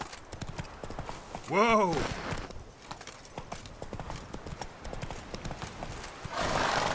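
Hooves clip-clop in a steady galloping rhythm from Roach, a horse in The Witcher 3, with a loud whinny near the start; someone shouts and talks over the hoofbeats.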